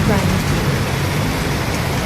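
Heavy rain pours down in a dense, steady roar that fills the whole clip without pause.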